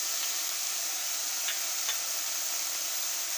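Onions and spices sizzling in butter in a pan, a steady soft crackling hiss with a couple of faint ticks, quiet and continuous without voices.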